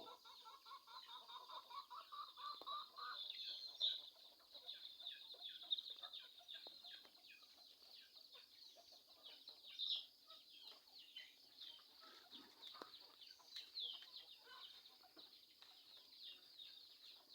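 Chickens cluck and chirp softly in a morning farmyard, faint scattered calls and short peeps coming and going over a quiet background.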